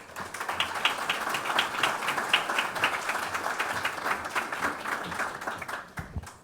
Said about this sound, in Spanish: vamos a recibir con un fuerte aplauso a la señora presidenta del Consejo de la Judicatura